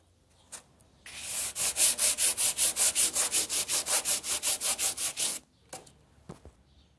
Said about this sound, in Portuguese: Então eu vou lixar aqui e ver se melhora aqui.